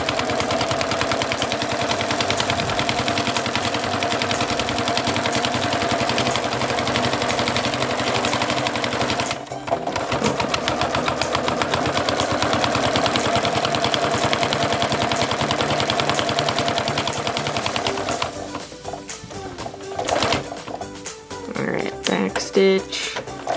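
A sewing machine stitching the seam of a 10x10 inch fabric potty pad, a dense rapid mechanical rattle running steadily and close with a brief pause, then stopping and starting in short bursts.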